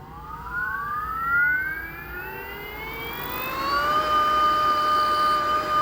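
A 48V/60V 2000-watt brushless DC motor spins with no load in its third speed mode, giving a loud, steady electric whine that climbs in pitch over several seconds and then holds at a higher tone, with no voices.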